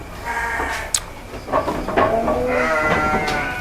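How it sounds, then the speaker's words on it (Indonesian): Young sheep of the fighting domba tangkas breed bleat at a farm in Priangan Timur. Several wavering bleats come close and loud over a rustling barn background. "Ini domba muda."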